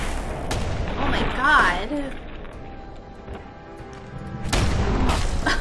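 Enemy gunner's gunfire in the video game Fallout 4, a run of loud booming shots at the start and again near the end, with an excited voice talking over the combat.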